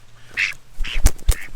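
Female Khaki Campbell ducks quack loudly and close by, a few sharp calls scattered with short pauses between them, with no people talking.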